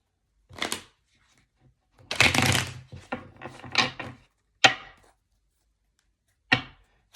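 Several separate bursts of papery riffling and shuffling of tarot cards, a few short and one longer flurry, close by with quiet pauses in between.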